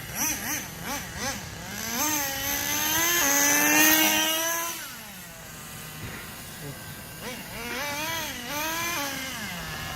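A Schumacher Menace GTR RC car with a three-speed gearbox runs outdoors, its small engine buzzing and revving up and down in repeated rising whines, with pitch jumps as it shifts, loud and fairly close.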